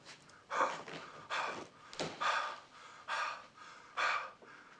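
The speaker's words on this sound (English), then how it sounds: "When you hear the little beep, I shall commence my heavy breathing" Heavy, rhythmic breathing close to the microphone, with about five loud, rasping inhales and exhales in a steady pattern.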